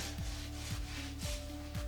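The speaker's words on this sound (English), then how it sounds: "use the sawing motion because you want to make sure you get through that crispy bacon" A serrated knife saws back and forth through a club sandwich with crispy bacon, four steady rasping strokes close by.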